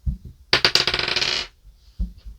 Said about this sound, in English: Okay, let's see what the dice have in store.